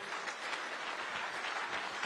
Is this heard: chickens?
no